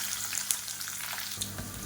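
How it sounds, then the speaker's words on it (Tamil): Mustard seeds, urad dal and chana dal fry in hot oil, giving a steady close sizzle with a few sharp pops and crackles and no voices. "எண்ணெய் சூடானதும் ஒரு டீஸ்பூன் கடுகு ஒரு டீஸ்பூன் உளுந்து ஒரு டீஸ்பூன் கடலை கடலைப்பருப்பு சேர்த்துக்கலாம்"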